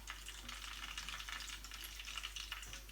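Curry leaves and green chillies frying in hot oil in a pan while making paneer 65, giving a steady, fairly quiet crackling sizzle throughout with dense bright spitting and no talking.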